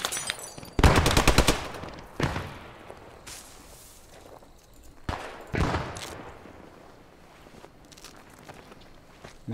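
Gunfire in the WWII shooter game Post Scriptum during the Sainte-Mère-Église airborne assault: a sharp automatic burst, then scattered single shots and short volleys of varying distance, with crunching footsteps between.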